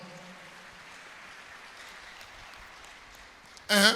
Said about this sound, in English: Give Jesus a wonderful clap